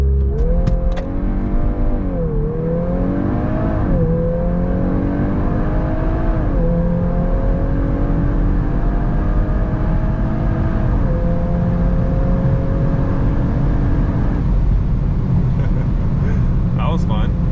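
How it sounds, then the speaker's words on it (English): A 2023 VW MK8 Golf R with a Stage 1 tune launching under launch control, its engine note rising in stepped revs through gear changes, loud and close under a voice talking inside the cabin. "So it actually did a decent launch that time."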